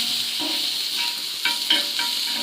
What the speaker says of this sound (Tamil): நல்லா இப்படி வதக்கிக்கோங்க